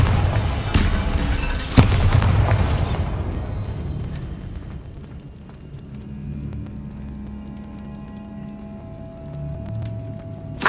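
A Bombarda spell goes off in a Hogwarts video game, a loud booming blast followed by a short burst of crackling debris, then a low rumbling tail that fades into quieter ambient hum.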